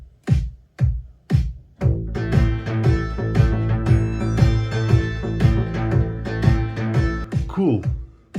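A bright, metallic synth-guitar riff from a preenFM2 synthesizer repeats over a steady rhythmic backing, with sharp plucked attacks at a moderate tempo.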